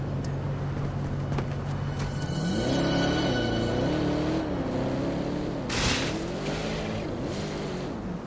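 FRV car engine in Helldivers 2, a steady hum that climbs into a rising, revving whine and wavers up and down as the vehicle drives along and scales walls, with a brief louder burst partway through.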